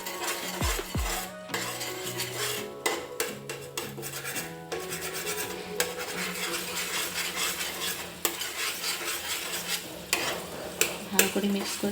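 A spoon stirring and mixing fresh cream in a pan while cooking shahi paneer: repeated close scraping and clinking strokes against the pan over a light, continuous sizzle.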